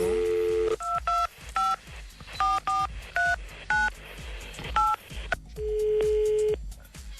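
A telephone number is dialed on a phone keypad, giving a run of short, distinct two-tone beeps in an uneven rhythm, followed by a longer sustained tone. The tones are clear and close, with no talking over them.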